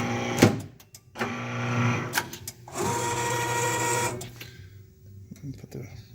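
An EC19 PRO V2 guillotine paper cutter slices through a stack of paper, with several short mechanical bursts and longer whirring stretches separated by pauses, close and fairly loud.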